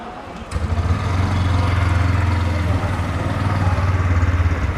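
A 2024 Bajaj Pulsar N125 motorcycle engine fires up after a brief quiet moment and settles into a steady, close, low-pitched idle thrum that holds evenly to the end.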